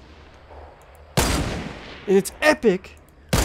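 Gunfire in the battle royale game Fortnite, with a loud sudden burst followed by a few sharp shots, under excited talk from players.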